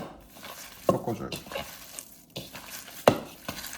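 Perilla potato ongsimi dough is mixed in a bowl with soft, wet stirring and squishing, broken by a couple of sharper scraping knocks. The sounds are fairly faint and intermittent.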